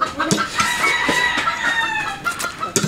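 A chicken clucking close by in a series of short, repeated clucks with a drawn-out, crowing-like call running through, loud and uncovered by speech.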